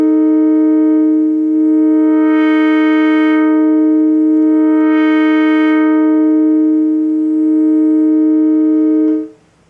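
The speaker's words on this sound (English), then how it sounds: "So when we change the cutoff frequency, if we do a sweep" Synthesizer tone with a rich harmonic stack whose filter cutoff sweeps up and back down twice, brightening and dulling the sustained note, which plays steadily and loudly alone before cutting off near the end.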